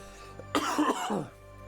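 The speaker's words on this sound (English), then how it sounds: "I'm coughing my guts up" A single harsh, close cough with a rough throaty burst and trailing rasp, heard alone against a faint steady hum.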